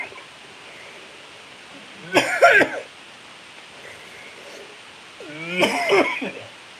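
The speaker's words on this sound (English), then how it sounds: "Coughing." A person coughs after eating hot, spicy food. Two separate harsh, raspy bursts, each lasting about half a second, come close to the microphone with a quiet pause between them.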